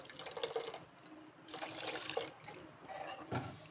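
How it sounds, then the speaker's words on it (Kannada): Water is poured in a few separate bursts into a horse gram sprout curry, splashing and trickling close by with short pauses in between. "ನಾನು 1-2 ಗ್ಲಾಸ್ ಅಷ್ಟು ನೀರು ಹಾಕ್ಕೊಂಡಿದ್ದೀನಿ."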